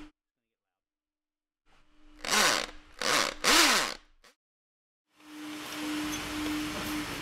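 A Wagner Rapid RH 4.0 test hole is drilled 2 inches into a concrete floor: a power drill runs in a few short loud bursts with pauses between, then a longer steady whirring run, close up.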